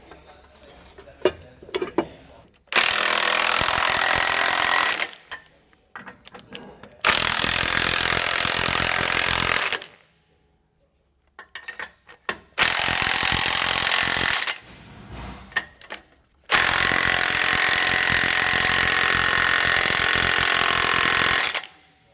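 Bursts of a power tool tightening the U-bolts on a Roadmaster rear anti-sway bar for a 2012 Tiffin Allegro motorhome, with four loud runs of about two to three seconds separated by quiet gaps and small metallic clinks.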